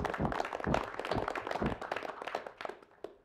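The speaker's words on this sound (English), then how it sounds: "So I think if we can show a round of applause for Richard's service." Polite clapping from a small group at a council finance and performance committee meeting, brief and fairly quiet, tapering off within a few seconds.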